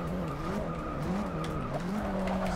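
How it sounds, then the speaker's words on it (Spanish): Race car in Forza Motorsport 6 braking hard, tires squealing in a sustained, wavering skid over steady engine noise, loud and continuous with no talk. "Aquí guárdate que hay que frenar fuerte."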